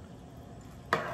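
Ingredients including garlic powder and a spoonful of sourdough are stirred together in a cooking pot on a stove, giving a soft, steady scraping bed with one sharper clatter near the end.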